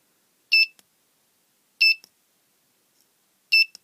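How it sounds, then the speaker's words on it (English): A Chinese electronic clock assembly kit's beeper gives three short, shrill electronic beeps spaced more than a second apart, close and alone against silence. "it's just going to beep shrilly with absolutely every function."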